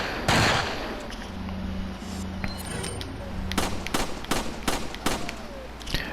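Gunfire in Resident Evil 4 Mercenaries rings out as a string of sharp, loud shots, one early blast followed by a rapid burst of cracks in the last few seconds over a low game ambience.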